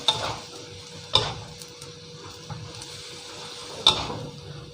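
Glass noodles with egg, pork and a few vegetables stir-fried in a pan give a soft sizzle under three or four sharp scraping clinks of a utensil at irregular intervals, with no voices.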